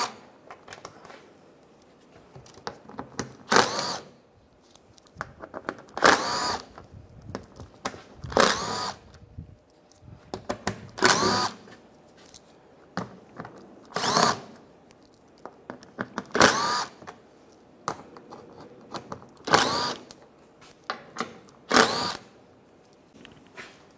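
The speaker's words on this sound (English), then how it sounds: "using an 8mm socket, we're going to remove a bunch of screws all around the perimeter" A power tool with an 8mm socket spins out screws around a panel's perimeter in a steady series of short, loud whirring bursts, each a second or so long, separated by brief pauses and handling noise.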